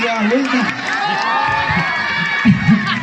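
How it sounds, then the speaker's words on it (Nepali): An audience at a Nepali comedy night cheers loudly, with high whoops and excited shouts rising over a crowd roar in quick bursts throughout. "एकचोटि फेरि ताली बजाउँ उहाँको लागि"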